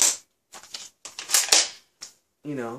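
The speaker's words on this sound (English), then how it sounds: "just shoot the gun. By the way, this is an airsoft gun, not real." An airsoft gun fired several times in a row, sharp dry snapping clicks in uneven bursts, close and fairly loud, with a short voiced sound at the end.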